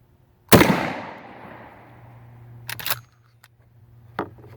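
A shotgun fires a Guard deer slug in one sharp, loud blast that rolls off into a fading echo, followed by metallic clicks and clatter of the action.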